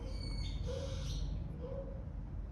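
A bird calls twice, each time a short, faint tonal note about a second apart, set against a steady background hiss.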